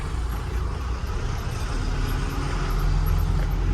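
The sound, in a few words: vehicles driving past on a road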